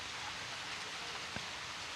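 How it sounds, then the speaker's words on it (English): Steady light rain falls outdoors at an archery shootdown event, an even, continuous hiss, with one faint drip or tap partway through. "the rain's quitting"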